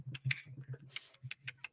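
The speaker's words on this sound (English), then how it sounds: "Just typing it up 1 second." Quick, light keystrokes on a computer keyboard in a studio, an irregular patter of soft clicks, close and quiet.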